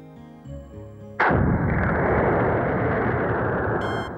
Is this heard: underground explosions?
yes